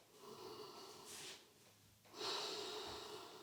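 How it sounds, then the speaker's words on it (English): Slow, loud nasal breathing from a person lying in a yoga crocodile pose, two long airy exhales heard close and alone, the second stronger than the first. "have a very present breathing here and listen to that echoey sound in this cavity that you've created"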